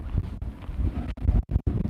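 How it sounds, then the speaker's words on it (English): A strong gust of wind buffets the microphone outdoors, a heavy low rumble that runs almost continuously with brief dropouts, loud and close, with no speech. "It's a big gust for a second here."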